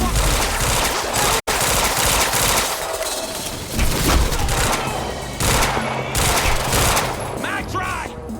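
Gunfire in a firefight in Quantum Break, with dense bursts of automatic shots and scattered single cracks crowding the whole stretch, and shouting voices mixed in among the shooting.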